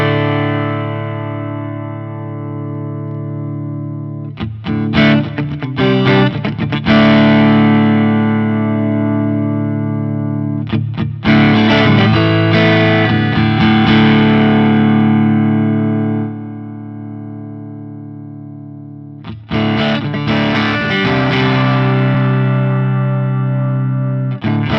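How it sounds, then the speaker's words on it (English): Electric guitar through a drive pedal with the drive turned up, loud saturated chords ringing out in three separate bursts with long sustain between, close and alone. "I'll play a little bit and I'll just boost up the drive a little bit so you can kind of hear what it sounds like when we boost up the drive"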